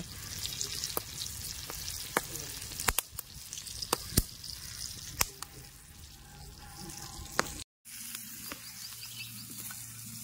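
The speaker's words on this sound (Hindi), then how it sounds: "मस्तपैकी फ्राय होता बघा कौलावरती." Chicken frying in oil on a clay roof tile over an open fire, a continuous soft sizzle and crackle with scattered sharp pops and occasional stirring clicks, close and steady.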